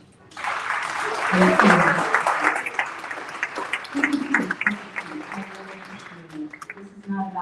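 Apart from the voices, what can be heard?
audience applause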